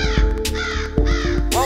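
Crows caw loudly and close by, a run of several harsh calls in an uneven rhythm with short gaps, and no one talks.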